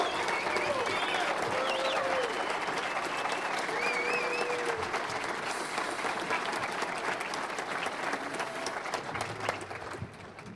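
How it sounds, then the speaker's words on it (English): Luncheon crowd at a college football event giving a standing ovation: continuous, roaring applause and cheering that fills the room, with a few voices and whistles rising above it. "I bet Jay Billis at ESPN I'd get a standing ovation"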